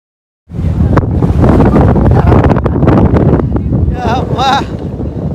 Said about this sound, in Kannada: ಸಕ್ಕತ್ತ ಗಾಳಿ ಸರ್,